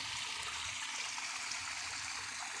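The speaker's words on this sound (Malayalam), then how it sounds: "വെള്ളം ഇങ്ങനെ വന്നുകൊണ്ടിരിക്കുകയാണ്. വെള്ളം ഇങ്ങനെ നോക്കിയേ" A stream flows steadily as a continuous broadband rush of water, close and even, with no voices.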